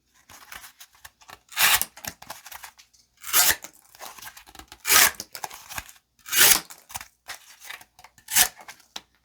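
An Ocaso Solstice folding knife slices through cardboard in five or six separate rasping, tearing cuts at a steady pace, close and crisp with quiet pauses between strokes and no talking.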